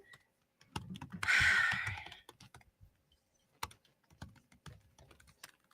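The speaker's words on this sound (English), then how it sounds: "you're gonna hear a lot of me typing and not speaking" Close, irregular clicks of keys on a computer keyboard, a short dense burst early on, then scattered taps with quiet gaps.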